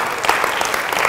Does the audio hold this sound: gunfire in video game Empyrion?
no